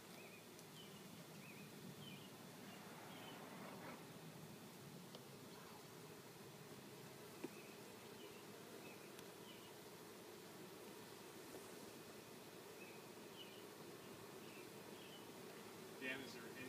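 Swarm of bees clustered in a tree, a steady low buzzing drone that hums continuously and fairly faintly outdoors, with a few faint bird chirps and occasional distant murmurs of people.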